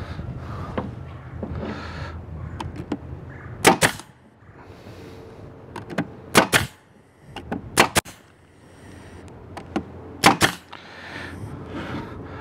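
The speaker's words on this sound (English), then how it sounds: "These are 5/8 inch staples, so they're going through the 3/8 plywood into the middle piece" Staple gun firing 5/8 inch staples through 3/8 inch plywood into a wooden middle piece while building a beehive mating nuc, five or six sharp snapping shots spaced irregularly over a low background rumble.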